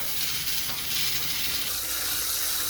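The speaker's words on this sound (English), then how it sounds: "So here we go, water's coming out." Water draining out of a water heater, a steady, loud, hissing rush of flowing water with a faint mechanical rattle under it, continuous and close, with no voices.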